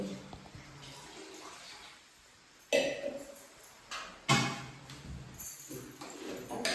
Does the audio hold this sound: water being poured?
yes